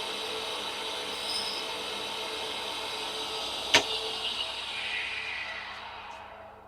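A grinding wheel being dressed gives a quiet, steady abrasive hiss and motor hum, with one sharp tick partway through.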